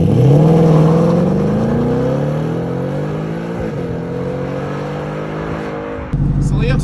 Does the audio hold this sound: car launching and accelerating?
yes